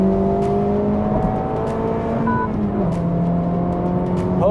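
A new Honda Type R engine in sport mode with a lighter flywheel revs eagerly while driving through a corner, a loud smooth rising drone heard from the cabin, steady and continuous without talk.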